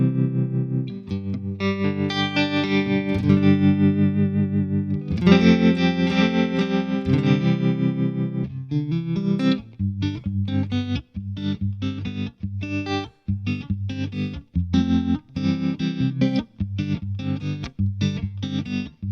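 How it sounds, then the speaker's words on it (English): Electric guitar run through a Fractal FM9 or Line 6 Helix modeler plays big, chimey chords, then switches to a tremolo effect that chops the tone into steady, rhythmic pulses. It is loud and close, with no talking. "Try on some tremolo."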